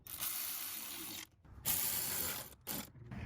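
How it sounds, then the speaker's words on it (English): A short ratchet tightens air tube clamps on a Toyota/Lexus 2UZ-FE 4.7 liter V8. It clicks in rapid bursts, with three runs of fast, close clicking separated by brief pauses, and no talk. "We're going to do the final tightening with a little short ratchet."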